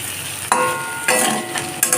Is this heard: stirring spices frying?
yes